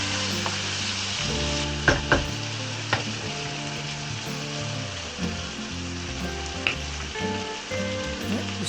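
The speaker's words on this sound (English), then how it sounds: "we mix it again to prevent sticking. The bottom will get burned." Pinakbet vegetables sizzle and fry steadily in a pan while being stirred, with a continuous close hiss broken by several sharp scraping clatters of the utensil against the pan.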